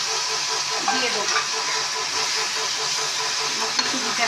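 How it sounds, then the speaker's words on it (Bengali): Onions and spices fry in a pan with a constant moderate sizzle and hiss, broken by occasional stirring clicks, with no clear talk over it. "শুধু পেঁয়াজটা আর এগুলো মশলাগুলো ভালোভাবে একটু ভাজা হয়ে দিলেই আমি সরষেটা দিয়ে দেবো"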